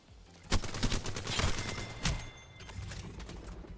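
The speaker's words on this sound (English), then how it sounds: "The alternator is such a banger. Why does it shoot so slow now?" Rapid bursts of the Alternator submachine gun in Apex Legends, several short fusillades of quick shots with the last burst trailing off, fairly close and loud.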